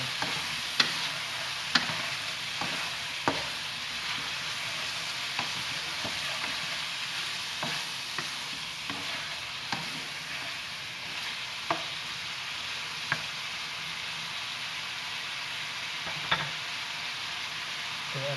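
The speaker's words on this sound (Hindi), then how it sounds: "अब इसमें ऐड करेंगे टमाटर डालेंगे, अच्छी तरह से मिक्स करेंगे।" Tomatoes stirred into chicken makhani (butter chicken) frying in a pan: a steady close sizzle runs throughout, broken by regular sharp scrapes and taps of the spoon against the pan, with no talking.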